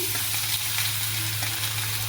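Grated ginger frying in refined oil in a kadai on a gas stove gives a steady, close sizzle with a constant low hum beneath it, unbroken for a couple of seconds and with no voices.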